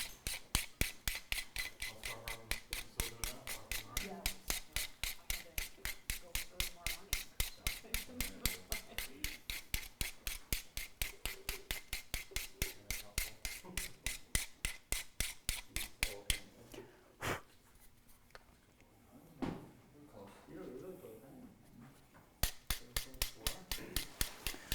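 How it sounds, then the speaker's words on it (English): A hand rasp files a special makeup effects piece in rapid, even strokes, close and steady, with a brief pause partway through before the scraping resumes; no one speaks. "I love this rasp tool."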